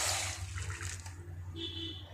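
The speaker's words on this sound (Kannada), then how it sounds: "ಇವಾಗ ಅದೇ ಕಪ್ಪಲ್ಲಿ 1 ಕಪ್ ಆಗುವಷ್ಟು ನೀರನ್ನ ಹಾಕೋತಾ ಇದ್ದೀನಿ" Water poured from a cup into a pan of oats for baby food, a steady close trickle and gush running for about two seconds with a faint clatter at the end.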